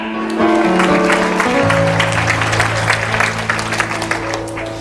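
Audience applause during a church seminar, loud clapping that runs across the whole stretch and mixes with sustained music.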